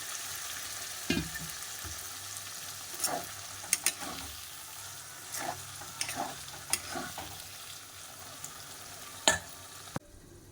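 Mushrooms fry in oil-rich spice paste over a steady, quiet sizzle, broken by intermittent scraping stirs and occasional utensil knocks against the pan.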